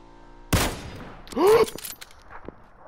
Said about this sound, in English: I just shot a guy off a motorcycle.